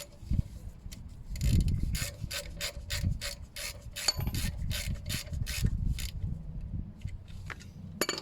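A ratchet tightens a brake caliper bolt on a 2008 Mercedes C Class during a rear brake pad and disc job, with a steady run of rapid close clicks alongside some rubbing and scraping of tools.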